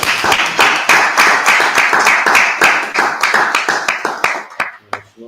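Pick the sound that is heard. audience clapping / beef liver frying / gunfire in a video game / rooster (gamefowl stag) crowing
audience clapping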